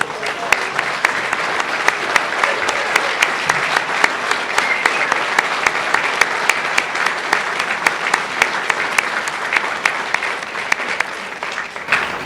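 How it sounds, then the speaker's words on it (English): Audience applause at a chamber of commerce annual meeting, sustained dense clapping from a large room with a few sharper individual claps standing out, no speech over it. "Could you please stand up and just say, everybody clap and just say thank you,"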